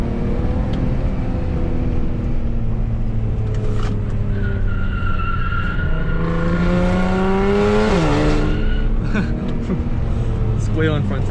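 A car's front tire squeals continuously through tight bends on the Tail of the Dragon mountain road, the rising and falling whine riding over a steady engine and road drone, close and loud throughout.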